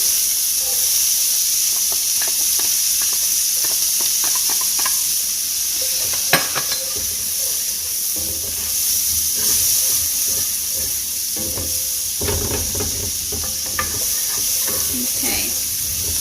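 Onion with a peas-and-carrots vegetable blend sizzling and hissing steadily in a hot pan, with intermittent scraping clicks of stirring, close-up and continuous with no talking.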